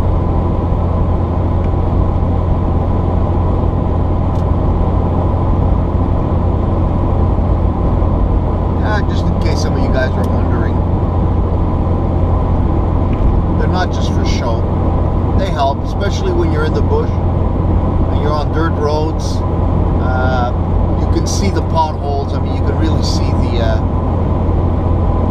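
Continuous low rumble of a car driving at night on a road in Labrador with floodlights on, loud and steady throughout, with scattered clicks and someone talking intermittently over it.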